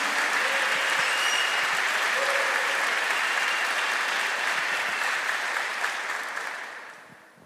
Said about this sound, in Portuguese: Alguém pode aplaudir ao Senhor essa noite em nome de Jesus?